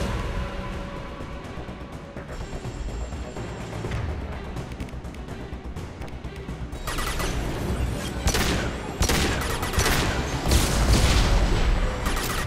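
Sustained automatic gunfire from a Locust submachine gun in the Mass Effect 2 video game, a dense rapid rattle over a busy battle backdrop that swells louder and harsher in the second half.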